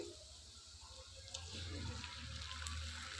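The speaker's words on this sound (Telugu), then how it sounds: "ఇలా మిక్స్ అయ్యేలా కలుపుకున్న తర్వాత ఇందులో కొద్దిగా వాటర్ పోసుకోవాలి" Water runs and pours steadily into a pan of semiya upma mixture in a home kitchen, a soft continuous gush that grows slightly fuller partway through, with no talk.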